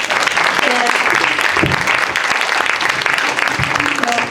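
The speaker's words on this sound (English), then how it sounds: "Please give them a round of applause." Sustained applause from a community audience for city council candidates at an evening forum, dense steady clapping at a close, even level with no talk over it.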